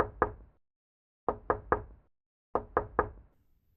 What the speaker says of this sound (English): someone knocked on my apartment door. 3 slow knocks.